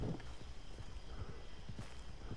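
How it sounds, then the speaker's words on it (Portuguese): In Red Dead Redemption 2, a called horse arrives with soft, fairly distant hoofbeats, a loose irregular clopping that holds for a couple of seconds over quiet ambient background. "Chamei o cavalo já."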